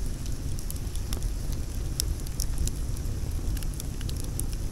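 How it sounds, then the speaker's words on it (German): A campfire burns outdoors beside a shelter hut, a steady low roar with scattered sharp crackles and pops, close and without voices. "Das ist ein cooles Lagerfeuer, was die uns vorhin vorbereitet haben."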